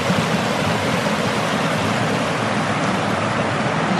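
A forest creek in Shawnee National Forest rushes steadily in snowy, sleety weather, a constant close wash of flowing water with no pauses and no voices.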